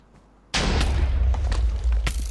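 A bomb exploding in Minecraft on a CraftRise server: after a quiet half second a sudden loud, deep boom erupts and rumbles on, with a second sharp blast near the end.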